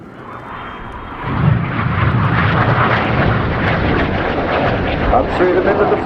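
RAF Red Arrows jets at a RIAT flying display swell into a loud, sustained roar after a quieter start, rumbling continuously overhead at close range.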